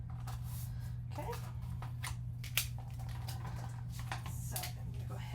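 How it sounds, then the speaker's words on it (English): Scissors handled and set aside at a paper-crafting table while a photo folio is assembled, giving a few light clicks and rustles over a steady low hum. "put my scissors away"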